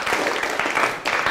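Classroom of primary pupils clapping for a group of classmates, a brief burst of dense, continuous applause from many hands, near and steady with a short dip partway.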